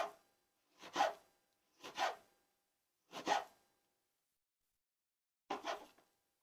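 A knife slicing through lemons for juice, with five separate short rasping cuts, close and fairly quiet, set apart by brief pauses of silence.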